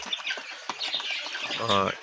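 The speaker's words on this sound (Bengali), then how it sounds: "এগুলো হচ্ছে দুই মাস বয়সী আসিল মুরগির বাচ্চা" Two-month-old Aseel chicks give short clucks and chirps close by, mixed with a brief voice near the end.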